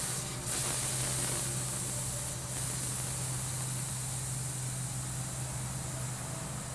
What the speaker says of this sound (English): I'm gonna hold this till it stops hissing at me